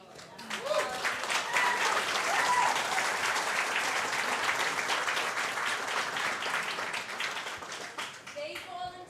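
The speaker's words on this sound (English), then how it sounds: "you may have heard in the background a round of applause." Audience applause at a curling classic tournament, a dense, loud wave of clapping from a crowd that swells and holds for several seconds before tapering off, with a few voices and a child's speech mixed in.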